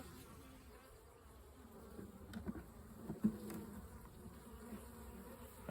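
A soft, steady hum of many honeybees buzzing around a hive nearby, with occasional louder passes as individual insects fly close.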